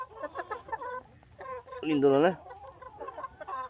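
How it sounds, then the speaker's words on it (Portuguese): Free-range country chickens cluck on a farm in a short, close burst midway through, with quieter fowl noises around it. A person talks over the scene before and after. "Isso aqui, gente, é o prato principal da roça. Galinha caipira."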